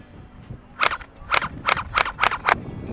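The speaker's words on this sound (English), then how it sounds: "Let's put on the single shot. Let's shoot now" Gel blaster fired on single-shot mode, six sharp snapping shots in an even rhythm, close and loud, with no talk.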